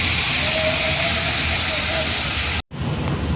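Sauce is added to capsicum and onion frying for chilli soybean, producing a loud, continuous close sizzle and hiss that cuts out abruptly for a moment and then resumes more softly.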